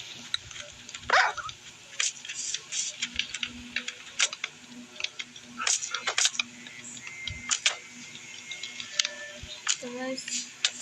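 Barks from a tamed dog in Minecraft come in short, sharp bursts spread across the clip, set among clicking game sounds and occasional quiet talk.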